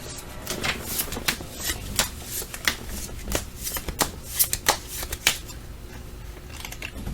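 Tarot cards being shuffled at close range, a run of quick riffling flicks and soft slaps in irregular bursts over a faint quiet background.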